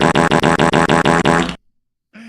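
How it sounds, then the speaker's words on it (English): A loud, buzzy fart sound effect played on a wrestling stream, a rapid train of about eight stuttering pulses lasting a second and a half, then silence before another sound begins. "That's a JR fart."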